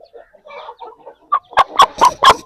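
An Aseel hen clucks up close, first with soft scattered murmurs, then a run of five loud, sharp clucks in a quick rhythm, with no talking.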